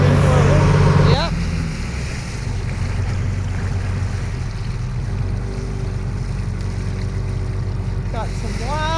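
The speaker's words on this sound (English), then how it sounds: "Kicked a little wash, a little smoke. This is a powerful motor." A powerful 1974 BMC diesel engine runs steadily in a boat on open water, a continuous low drone mixed with wash, waves and wind noise, while people talk at the start and near the end.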